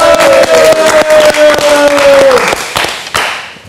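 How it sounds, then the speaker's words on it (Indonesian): An audience in a television studio claps in a short burst of sharp, close hand claps over a sustained tone and a voice, the clapping thinning out and stopping after about three seconds. "Kita berikan tepuk tangan."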